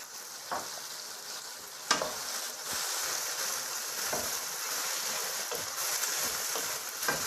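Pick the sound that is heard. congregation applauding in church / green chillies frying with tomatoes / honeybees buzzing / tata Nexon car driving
green chillies frying with tomatoes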